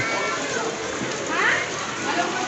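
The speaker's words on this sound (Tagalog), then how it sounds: "Malakas na yung ulan." Steady heavy rain hisses across the whole clip, a dense broadband wash with a voice murmuring faintly underneath.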